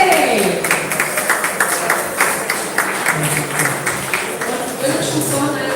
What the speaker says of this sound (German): Dann begrüßen wir mit einem herzlichen Applaus auf der Bühne John, Raymond, Steffi und Kay.